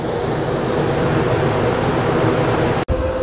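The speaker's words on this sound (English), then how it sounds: "So this should start turning on shortly. There's the fan. So my air conditioner should start just a second." An RV rooftop air conditioner runs with a loud, steady, broadband rush of fan and compressor noise. A brief dropout comes near the end before the running resumes.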